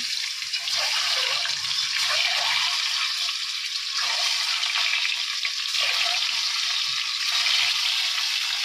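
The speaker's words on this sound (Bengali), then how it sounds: "আমি ডিমগুলো ভাজা বসিয়ে দিই, তেলের উপরে নুন আর হলুদ দিয়ে দিয়েছি।" Eggs frying in oil seasoned with salt and turmeric give off a constant, loud hissing sizzle that holds steady throughout without a pause, close to the pan and with no voices.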